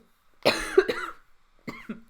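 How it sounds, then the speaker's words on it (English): Close coughing: a harsh burst of several coughs, a pause, then a shorter cough, loud and right at the microphone. "Can you please turn away from the mic when you're coughing?"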